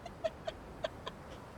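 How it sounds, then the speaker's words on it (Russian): Domestic cat indoors spotting someone through a window and making a soft meow: four or five short, faint chirps spaced unevenly over a quiet room background, with no talking. "Кого-то видит в окне и мявкает"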